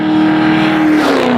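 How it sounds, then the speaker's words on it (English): A muscle car's LS7 V8 engine revs loudly up close, a sustained throaty roar with the pitch climbing, heard alone. "Under the hood, a fire-breathing LS7 V8 engine ready to tear up the pavement with some serious power."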